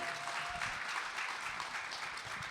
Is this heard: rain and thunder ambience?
no